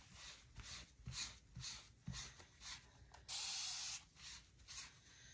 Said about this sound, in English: So I'm gonna spray this with water.